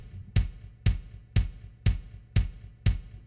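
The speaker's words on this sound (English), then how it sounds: "with a beat at a tempo of 120 beats per minute" Steady musical beat at 120 beats per minute, six punchy low drum hits evenly spaced half a second apart, each with a short decaying tail, clear and alone.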